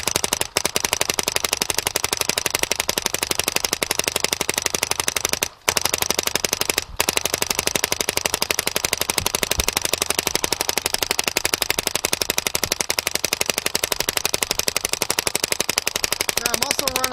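An Angel Fly paintball gun firing continuously during an efficiency test, its regulator run at about 72 PSI: a dense, rapid, unbroken stream of sharp pops, loud and close, with two very brief pauses.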